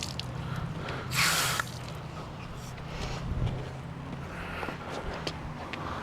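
Water spray hisses against a Suzuki T350 motorcycle during washing, a continuous close wash of spray with brief louder bursts, dripping and splashing over low background rumble.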